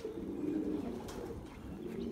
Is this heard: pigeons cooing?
yes